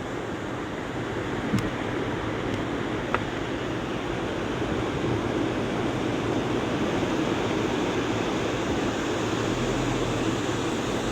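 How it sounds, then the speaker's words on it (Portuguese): Ocean surf rolls onto the beach at Praia do Cassino on a holiday, a steady broadband wash of breaking waves with wind noise, continuous and fairly loud, with no talk. "Olha o som do mar."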